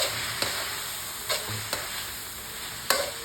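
Chicken sautés in fish sauce in a hot pan, a soft steady sizzle broken by a few sharp scrapes and clinks of stirring, close and alone.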